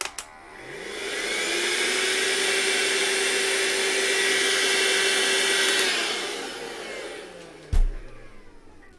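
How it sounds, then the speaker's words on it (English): A vacuum cleaner starts up, whirs steadily at a loud, close level for about five seconds, then winds down, ending with a knock. "let me vacuum here and have a look"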